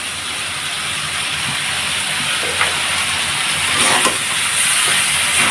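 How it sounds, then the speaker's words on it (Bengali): Crushed garlic frying in hot oil gives a dense, loud, continuous sizzle and hiss, close up, with a few small crackles and no talk. "রসুনগুলো তেলে ভাজে দিলেই ভালো হয়"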